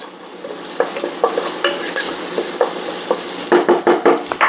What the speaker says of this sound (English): And we'll get our hamburger in the pot.